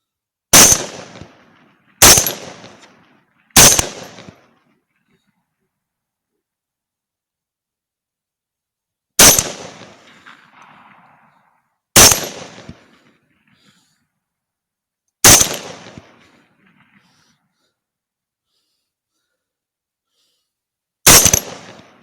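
Seven sharp, loud 6.5 Grendel rifle shots ring out outdoors during a hog hunt, spaced irregularly with quiet gaps, each followed by a short echoing tail.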